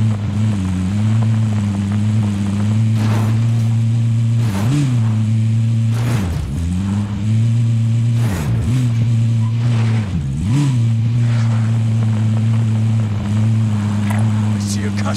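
A car engine driving in Call of Duty: Warzone, a steady droning hum that holds throughout with a few pitch dips, heard under a talking voice.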